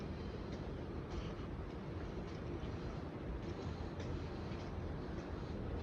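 A train at Anzac Station rumbles faintly and steadily, with a low rolling rail noise and soft intermittent clacks throughout.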